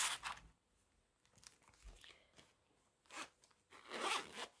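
Paper budget envelopes being tucked away, heard as faint, close crinkling and rustling with a few short zip-like scrapes in scattered bursts separated by near silence.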